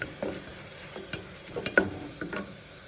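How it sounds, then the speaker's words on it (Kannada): Palak pappu ingredients with onion sizzle quietly in a pan while a spoon stirs them, giving a few soft scraping knocks over a steady low frying hiss. "ಈಗ ಇದೆಲ್ಲ ಚೆನ್ನಾಗಿ ಫ್ರೈ ಆಗ್ತಿದೆ."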